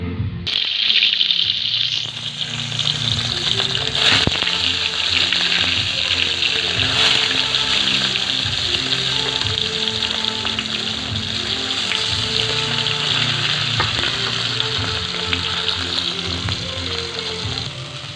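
Cumin seeds fry in hot oil with a loud, continuous, close crackling sizzle that holds steady throughout, along with an occasional faint knock.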